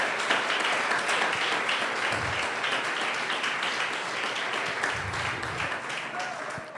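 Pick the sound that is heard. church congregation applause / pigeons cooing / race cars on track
church congregation applause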